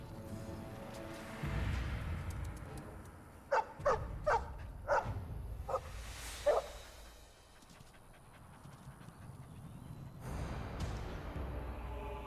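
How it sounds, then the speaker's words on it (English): A dog in the video game Dragon Age: Origins barks and pants, a short run of about six sharp barks mid-clip amid low background game ambience, moderately close and without speech. "Oh, puppy."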